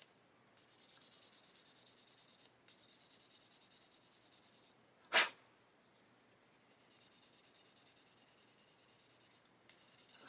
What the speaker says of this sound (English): So we'll sand that off.